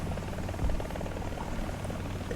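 An attack helicopter in the War Thunder combat game throbs steadily with a broad, continuous rotor and engine drone, moderately loud and unbroken throughout.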